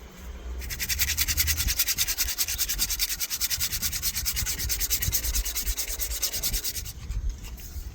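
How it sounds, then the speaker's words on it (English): A wooden walking stick is hand-sanded with sandpaper in quick, steady back-and-forth strokes, close and continuous for several seconds before stopping; nobody speaks. "now I'm going to go to sandpaper"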